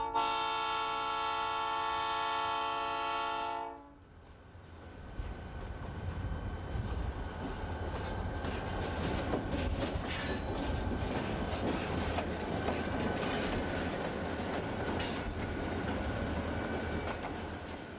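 A Southern Pacific train passes a small station shelter, first sounding a loud sustained horn chord for several seconds, then a long rumbling roll of wheels and cars with faint clicks, steady and moderately distant.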